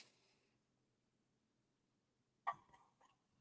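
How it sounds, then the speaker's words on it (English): A dog lets out a short burst of barks and yips after a long quiet stretch, sharp and fairly close, with no talking over it. "My dog is barking"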